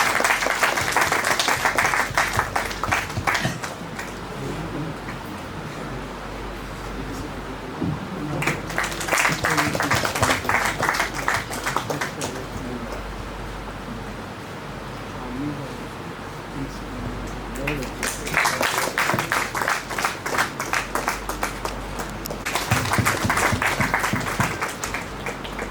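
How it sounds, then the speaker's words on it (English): An audience at a panel discussion breaks into several bursts of loud applause, with dense clapping separated by quieter gaps where a voice speaks. "Round of applause."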